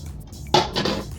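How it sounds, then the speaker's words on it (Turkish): Prepared vegetables for corn-flour mücver are tipped into a deep bowl, giving a short clattering knock of food and utensil against the bowl followed by a softer second rattle, close and fairly quiet in a home kitchen. "Bunların hepsini şöyle derin bir kabın içerisine alıyorum."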